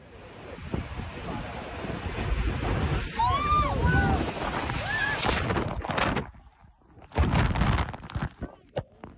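Rough surf crashing and roaring with wind buffeting the microphone, a sharp whistling cry rising over the water partway through.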